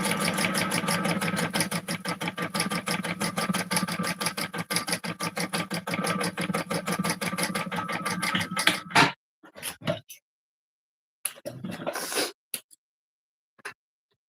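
A sewing machine stitches a wallet seam in a fast, even rhythmic chatter for about nine seconds, then stops, followed by a few short bursts of stitching and handling noise with silence between.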